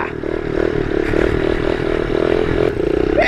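A new pit bike's small engine runs on a first ride with a steady, buzzy drone and slight rhythmic pulsing, loud and close, with faint rattles over the top.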